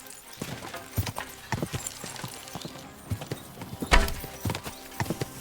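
Horse hooves clip-clop steadily at a riding pace in the medieval game Kingdom Come: Deliverance 2, loud and close, with irregular thuds and occasional clatter.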